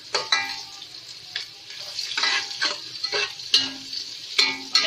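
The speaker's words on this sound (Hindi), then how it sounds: "मैंने आधे प्याली घी लिया है और उसमें मैं प्याज डाल दी है मैंने। उसको मैं ब्राउन करूँगी, प्याज को लाइट ब्राउन।" Onions with whole garam masala and cumin seeds frying in half a cup of ghee, stirred now and then so a steady sizzle is broken by repeated scraping clatters of the spoon against the pan, close up with no talking.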